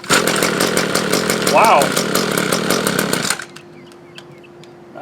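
An Echo SRM-231 string trimmer, primed and on full choke after a carburetor and trigger replacement, fires and runs with a loud, steady two-stroke buzz for about three seconds, then cuts out; a voice exclaims briefly over the engine.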